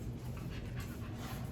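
A hyper, excitable dog pants rapidly and steadily up close, quiet and continuous with no talk.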